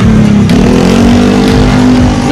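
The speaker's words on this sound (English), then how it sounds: "Noisy motorbikes" Motorbikes on a busy bar-lined walking street in Kanchanaburi, Thailand, roar loudly and continuously close by, with engine revs rising and falling as they pass.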